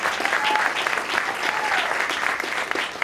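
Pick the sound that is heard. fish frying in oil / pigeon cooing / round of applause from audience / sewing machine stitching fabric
round of applause from audience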